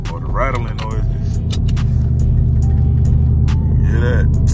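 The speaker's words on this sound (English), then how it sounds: "I don't know if y'all hear the vibration noises or the rattling noises." A 2012 Dodge Charger SRT8 fitted with a front splitter rattles and vibrates while driving: a steady, loud low rumble runs throughout, with scattered sharp clicks and buzzes on top. A person talks over it at times.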